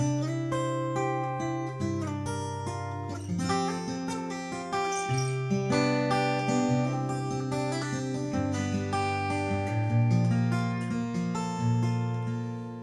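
A Maton acoustic guitar plays with reverb, fingerpicked notes ringing clearly with passing tones over a steady bass line, alone and up close.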